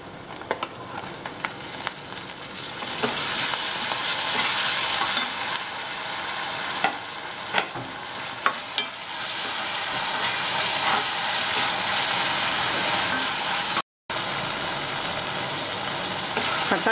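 Tomatoes sizzle steadily in a hot pan for paneer biryani, a continuous frying hiss with occasional scrapes and clicks of a spoon stirring, heard up close with no talking.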